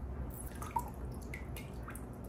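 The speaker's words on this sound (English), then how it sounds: "Just gonna slowly add water from the tank that they're going into." Water drips slowly into a container while aquarium fish are drip-acclimated with water from their new tank, giving a few faint, sparse drops against quiet background noise.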